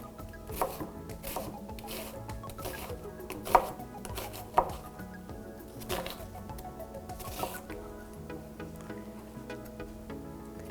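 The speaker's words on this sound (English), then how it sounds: "I'm going to take some onion and cut that into small pieces" A knife chops onion into small pieces on a cutting board, a quiet, steady run of close, crisp taps with a few sharper knocks, no one talking.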